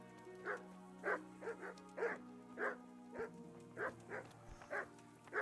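A dog barks repeatedly at a dog trainer in the medieval game Kingdom Come: Deliverance, about ten evenly spaced barks over a steady low hum of background music, moderately loud and without speech.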